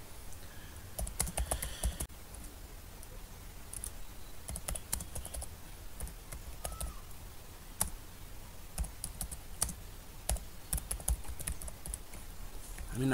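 A name typed in Bengali on a computer keyboard: quiet, close, irregular key clicks in short bursts with brief pauses, and a few louder taps, running for about thirteen seconds with no speech.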